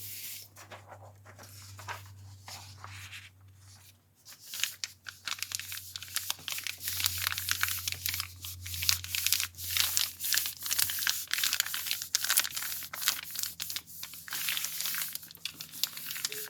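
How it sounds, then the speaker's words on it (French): Thin paper is pressed and rubbed down onto a Gelli plate covered in paint and spaghetti, producing close, continuous crinkling and rustling that grows busier and louder, over a low steady hum. "then taking the thin paper,"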